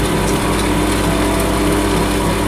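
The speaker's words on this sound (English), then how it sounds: "When you're grinding some stones, never ever grind it on one spot. So always keep it moving." A motorized grinding wheel works a druzy crystal stone, a loud, steady whirring hum with a constant gritty buzz throughout, close up and without pauses or speech.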